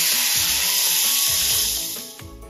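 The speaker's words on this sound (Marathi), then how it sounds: "ह्यामध्ये आता आपण हाफ लिटर फुल क्रीम मिल्क" Half a litre of boiled full cream milk poured into a hot pan of roasted vermicelli for sevai kheer, giving a loud, steady hissing sizzle and liquid rush that fades slightly toward the end, with no talking.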